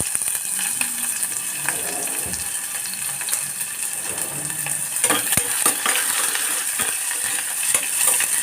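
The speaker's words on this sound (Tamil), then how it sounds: "இதில் வெங்காயம் போட்டுக்குவோம்" Onions frying in oil with spices in a pan for South Indian tomato rice, giving a steady close sizzle with light stirring and scraping noises and no talk.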